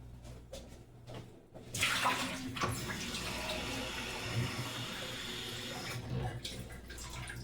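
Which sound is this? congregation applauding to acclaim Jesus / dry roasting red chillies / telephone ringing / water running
water running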